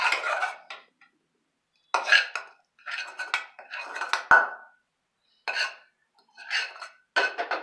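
A spoon stirs seasoned vegetables into curd for Tamil thayir kootu, giving close, bright scraping and clinking against the bowl in several short bursts separated by quiet pauses.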